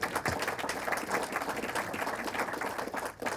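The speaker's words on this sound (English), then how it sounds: "I think we need a round of applause." An audience applauds at a county commissioner's swearing-in ceremony, a continuous patter of many hands clapping at moderate volume that fades briefly near the end.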